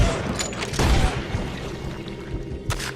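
Gunfire in the video game Red Dead Redemption 2: a heavy low boom near the start and a second sharper shot near the end, over a rumbling game soundscape with no one speaking.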